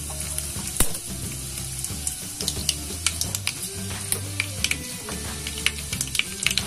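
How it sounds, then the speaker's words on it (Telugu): Mustard seeds and black gram dal frying in hot oil for a rice rava upma tempering, a close sizzle with scattered sharp pops and crackles throughout, under a steady low hum, with no voices. "స్టవ్ అంటించి నూనె పోసుకొని కొద్దిగా ఆవాలు,"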